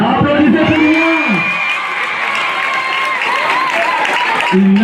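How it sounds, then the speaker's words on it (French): A crowd claps loudly and steadily for several seconds at a school end-of-year results ceremony, with a voice speaking French over the start and end of the applause. "Applaudissez pour lui."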